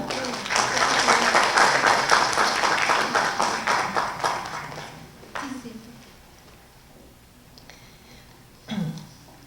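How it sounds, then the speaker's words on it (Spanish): Loud applause from a conference audience that swells then fades out after a few seconds, followed by a couple of isolated claps and faint room noise. "Por favor, la recibimos con fuertes palmas."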